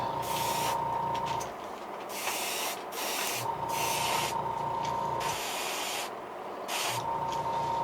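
A heat gun sets paint on a fire tiger crankbait fishing lure. Its airy hiss rises and dips in repeated bursts, up close and alone.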